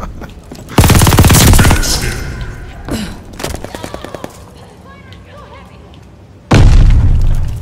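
Multiplayer match in the video game Call of Duty Vanguard, where a missile strike lands in loud, booming blasts with crackling gunfire bursts between them, then a second heavy explosion hits near the end.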